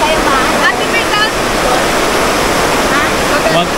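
Swift mountain river water rushes loudly and steadily, a constant roaring wash close by with people's voices faintly heard over it.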